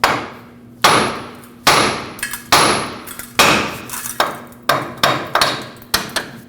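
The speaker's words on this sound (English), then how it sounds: "Now using a hammer, tap the knuckle right here, and that'll break the tie rod stud free from the knuckle." A hammer taps the steering knuckle of a 1998-2011 Ford Ranger to free the tie rod stud: about nine sharp metallic strikes, each ringing and fading briefly, at a steady working pace, close and alone.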